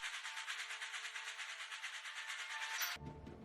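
A train runs on the rails in a Harry Potter film, a loud rhythmic clatter with a steady beat that stops abruptly near the end, leaving a low, quieter rumble.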